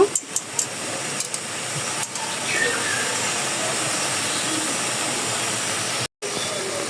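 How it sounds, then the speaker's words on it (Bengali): Greens frying in a pan in a village kitchen on a rainy afternoon, a steady broad hiss of sizzling with a few sharp clicks early on and a brief cut near the end. "এইভাবে ভেজে নেব।"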